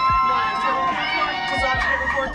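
Studio audience applause during a live Ithaca College television taping, a loud, continuous wash of clapping and cheering with voices mixed in throughout.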